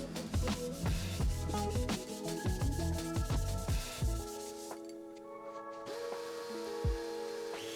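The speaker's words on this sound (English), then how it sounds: "This is sanding down the river portion." An elm slab's epoxy river section is sanded with a power sander, giving a close, steady rubbing grind. The sound drops away partway through, then a lighter hum and scrape return.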